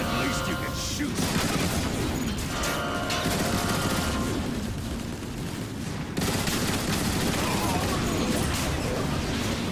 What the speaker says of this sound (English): I love the turrets in this, especially the ones you can bring with you